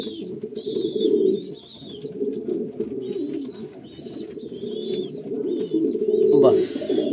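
Pigeons in a loft in Kolkata coo in a steady, overlapping low murmur that runs through the whole stretch, with brief higher chirps from birds scattered over it.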